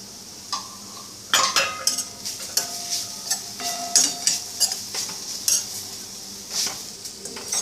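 A spoon stirs radish paratha stuffing in a hot pan, with repeated scraping and clinking strokes over a soft sizzle, close and moderately loud, with no talking.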